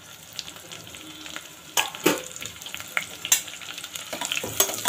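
Chopped onion, curry leaves and green chili sauté in hot oil in a pan for jeera rice, a steady close sizzle broken by several sharp scrapes and stirring strokes of a spoon, with no talking.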